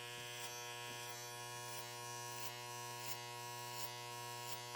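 Electric hair clipper buzzing steadily while fading curly hair, a faint constant hum with rhythmic soft pulses from scooping passes, close and alone.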